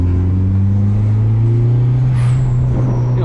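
Deep, loud, steady engine drone from a boosted, turbocharged Honda CR-V held at about 3,000 RPM, close by with a rising whine near the end.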